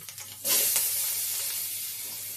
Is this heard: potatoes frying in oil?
yes